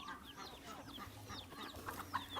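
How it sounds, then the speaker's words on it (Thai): Chickens cluck and chirp near a basin of chopped watermelon as they jostle to eat it, giving short, busy calls at moderate distance over a soft outdoor background. "ไก่แย่งกินแตงโม"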